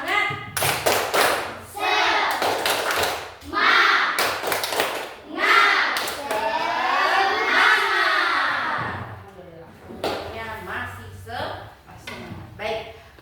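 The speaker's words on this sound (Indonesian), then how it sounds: "Tepuk semangat" A classroom group does a rhythmic 'tepuk semangat' ice-breaker clap, bursts of sharp hand claps in patterned runs mixed with loud chanting children's voices, close and lively.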